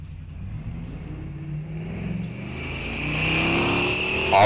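Drag race cars, a Mustang and a Nova, rumble at the line and then launch, their engines swelling into a loud, building roar that rises in pitch near the end, with no talk.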